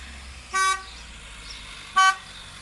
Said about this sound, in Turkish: Bir araba daha geliyor köyümüze.